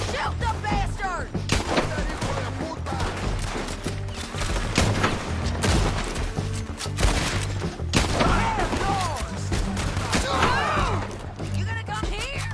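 Dense video-game gunfire crackles in rapid bursts and volleys, with heavy thumps and impacts throughout, while excited voices talk and shout over the shooting.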